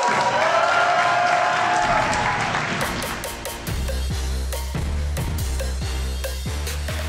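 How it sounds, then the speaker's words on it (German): Audience at a live wXw Wrestling Academy event applauds and cheers loudly and continuously, with a pounding, rhythmic entrance beat kicking in partway through under the crowd noise. "ich hoffe, ihr gebt dem lautesten Applaus, den die Wrestling Academy jemals gehört hat, für Elia Blum!"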